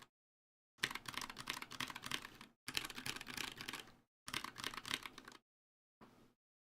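Typing on an NK65 mechanical keyboard fitted with unlubed switches comes in three dense bursts of rapid clacks, then one short final flurry, close up with silence between them.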